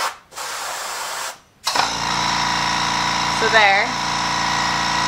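A newly unboxed airbrush compressor kicks on after a brief pause and runs with a steady, close motor hum and hiss, with a short spoken remark over it.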